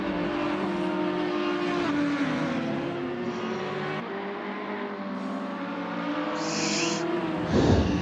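GT3 race cars in a racing video game sweeping through the final corners, engines droning and revving with shifting pitch as several cars pass close together, loud and continuous.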